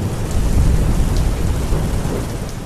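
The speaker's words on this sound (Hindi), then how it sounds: "मूसलाधार बारिश हो रही थी" Heavy rain pours down steadily while deep thunder rumbles underneath, a dense, loud wash of rainfall with a low rolling roar throughout.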